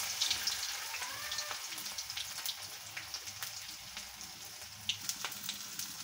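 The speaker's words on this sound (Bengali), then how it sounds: "তো আমি একে একে কড়ার মধ্যে দিয়ে দিলাম, এপাশ ওপাশটা ভেজে নেব" Jute leaf fritters coated in flour batter fry in oil in a wok, a continuous close crackling sizzle with irregular pops and spatters and no talking.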